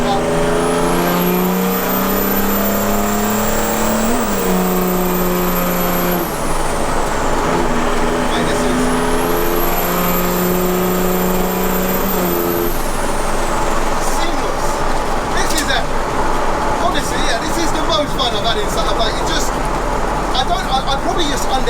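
Heavily modified mail truck accelerating hard on turbo boost: a loud engine roar climbing in pitch twice with a rising high whistle, then a rough, sustained drone with rattling clatter.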